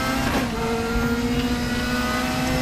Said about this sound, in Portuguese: Esse carro tem um som muito gostoso